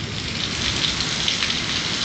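Heavy rain pours steadily during a big lightning storm, a loud continuous hiss of drops with a faint low rumble of thunder beneath, no voices.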